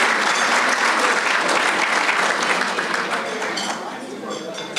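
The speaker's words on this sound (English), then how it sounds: "I think they deserve a round of applause for their work and effort" Audience at a Los Altos and Los Altos Hills State of the Cities event applauding Chamber of Commerce volunteers, a full even round of clapping that gradually thins and softens toward the end.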